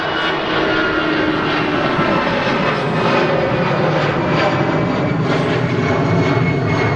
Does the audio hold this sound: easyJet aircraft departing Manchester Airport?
yes